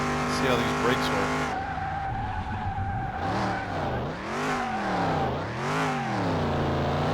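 Pontiac GTO in the Car Mechanic Simulator video game, its engine note sweeping up and down with revs while tires squeal and skid under hard braking, loud and continuous, with a steady whine early on.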